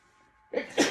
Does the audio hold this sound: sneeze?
yes